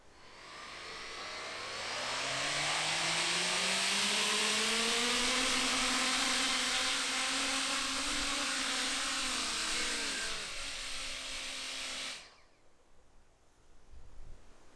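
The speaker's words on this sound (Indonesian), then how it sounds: "Oke, ini dia uji coba pertama drone efek Coanda." Motors of a Coanda-effect drone at full throttle whine up from low to a loud, high-pitched buzzing roar, hold steady while flying, then cut off abruptly near the end.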